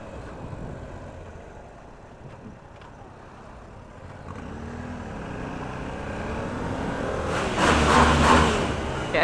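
A Yamaha Tenere 700 dirt bike engine runs smooth and quiet during a trail test ride, a low steady drone that swells as it revs up toward the end.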